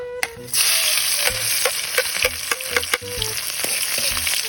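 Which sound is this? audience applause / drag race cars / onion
onion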